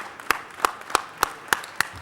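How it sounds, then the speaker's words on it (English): Six slow, evenly spaced hand claps at a city council meeting, crisp and fairly close, with quiet room tone between them. "Tom deserves a huge round of applause for that, for all of his work at the zoo."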